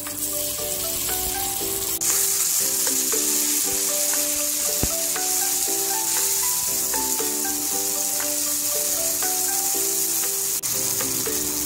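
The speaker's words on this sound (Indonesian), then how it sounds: "Sekarang saya tumis bumbu yang saya tumbuk tadi ya." Pounded spice paste sautéed in a pan for an ongseng of noni flowers with Medan anchovies, giving a steady, close sizzle that runs the whole time beneath soft background music.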